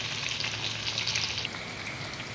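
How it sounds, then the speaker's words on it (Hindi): Okra (bhindi) fries in oil on full heat with a dense, steady, close hiss like heavy rain, slightly easing partway through, with no talk. "साथ में आपने हिलाते भी रहना है ताकि भिंडी ज़्यादा जले ना, और फुल आंच पे आपने फ्राई कर लेना है"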